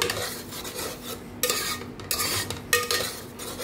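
Cooked dalia with coriander leaves stirred in a pot, a spoon scraping and clinking against the metal in short bursts with a faint low simmer beneath.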